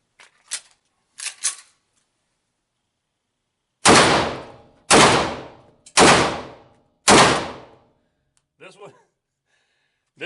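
Rock Island TCM 9R pistol fired at a 3-yard range: a few quieter clicks, then four loud, sharp shots spaced about a second apart, each with a quick decay, and faint speech near the end.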